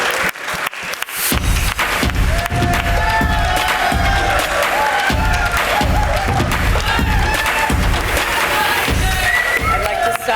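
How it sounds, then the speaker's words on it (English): Loud, sustained applause from a large crowd, with cheering and whooping voices rising over the clapping after a brief quieter start. "please let's welcome him with a massive round of applause"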